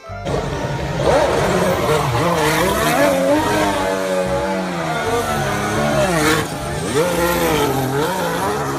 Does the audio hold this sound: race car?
yes